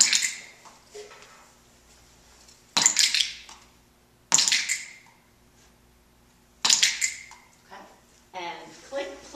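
A ball striking a floor during dog-training timing practice, three or four sharp thuds spaced a couple of seconds apart, each met by a quick clicker click, with faint room noise between.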